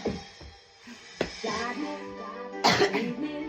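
Several rough coughs and throat-clearing sounds, close and fairly loud, with a strained harsh burst near the end.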